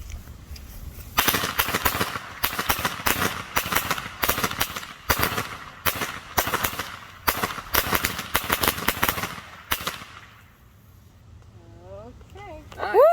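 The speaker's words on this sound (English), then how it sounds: "Next firework." Backyard firework crackling loudly in a rapid string of bursts for about nine seconds, then fading, followed by higher whistling squeals near the end; people talk around it.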